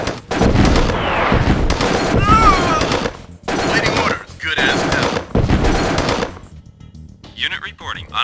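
Bursts of gunfire and artillery blasts in the 1999 real-time strategy game Command & Conquer Tiberian Sun, loud and dense, arriving in several clusters separated by brief gaps, with game voice lines and effects mixed in.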